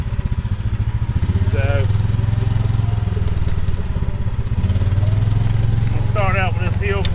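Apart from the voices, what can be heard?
Club Car DS golf cart with Predator 459cc engine revving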